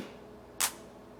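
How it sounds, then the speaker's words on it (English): A single trap-beat clap sample hits once, sharp and bright, standing alone against a quiet background. "So typically the clap would sound like"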